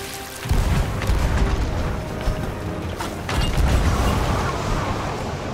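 Ship cannon fire in the Sea of Thieves video game, heavy booming blasts over a dense, noisy battle mix of creaks and crashes, with no clear talking.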